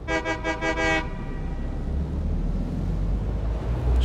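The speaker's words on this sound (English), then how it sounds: "Just trying to honk and say goodbye and then leave." A train horn in the factory-building video game Satisfactory gives five quick, loud toots in a row, then a steady rumble of the train carries on underneath with no one talking.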